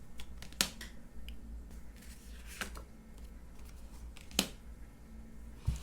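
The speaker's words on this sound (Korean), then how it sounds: "조언 카드 뽑아볼게요." Tarot advice cards being drawn and handled: soft, faint paper rustles and a few sharp card snaps and flicks scattered at irregular intervals, with no talk.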